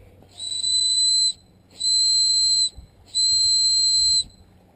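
Three long, shrill blasts from a Wazoo survival bracelet whistle, about a second each, evenly spaced with short pauses between, clear and fairly loud.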